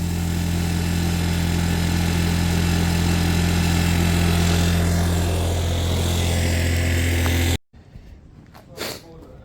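A stolen scooter's small engine idles fast and steady close by, a constant buzzing drone that runs for about seven and a half seconds and then cuts off abruptly, leaving quiet room noise with a brief knock.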